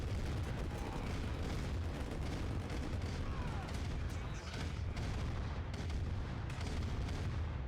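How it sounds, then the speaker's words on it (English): Dense, continuous tank battle gunfire and explosions from Command & Conquer: Red Alert Remastered, with booming artillery-like blasts and rapid shots layered into a loud, unbroken wall of combat noise. "Quite a extensive tank battle."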